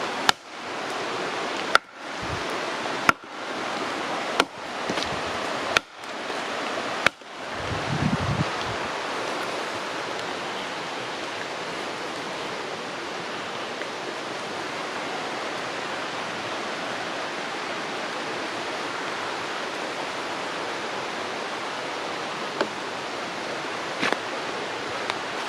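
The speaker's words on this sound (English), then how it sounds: "It's a pretty good sized creek right there" A good-sized creek in the Smoky Mountain forest rushes in a steady broadband roar; a few sharp knocks and handling thumps come first, then the water flows alone and continuous.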